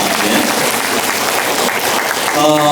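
Audience applause from citizens gathered at a talk concert in Busan, a dense, steady wash of clapping throughout, with a voice beginning to speak near the end.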